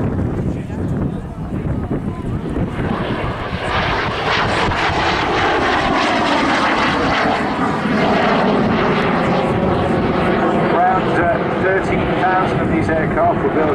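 A MiG-15 jet fighter roars past at a Southport airshow, a loud, sustained engine rumble with a slowly shifting whine as it passes, mixed with wind buffeting and a voice commentating over it throughout.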